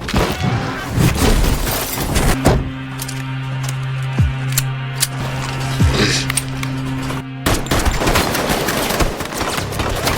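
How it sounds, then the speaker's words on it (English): Bursts of gunfire crackle through a fierce movie shootout, rapid shots layered over a dense action soundtrack with a steady low hum in the middle stretch, loud and close throughout. "engages in a fierce shootout, before finally taking him down"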